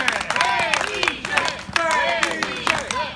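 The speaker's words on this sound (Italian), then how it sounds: "Un applauso a Felice Rossa." Crowd at a live wrestling show applauding and cheering for wrestler Fenice Rossa, loud scattered clapping with shouting voices over it, steady and continuous throughout.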